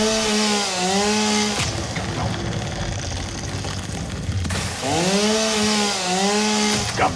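A chainsaw in the video game Satisfactory revs and cuts in two loud bursts with a rising and falling whine, separated by a stretch of coarser, lower grinding.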